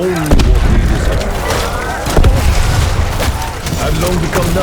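Video game explosions and gunfire in a hardcore four-player co-op round, with dense booms and thuds rolling over one another continuously and close, backed by a steady busy din.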